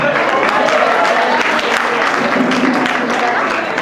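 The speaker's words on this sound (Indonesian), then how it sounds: "Kita tepuk tangan sekalian." Audience applause at a student leadership training event at FISIP Universitas Udayana, a dense steady wash of many hands clapping, loud and sustained throughout with no gaps.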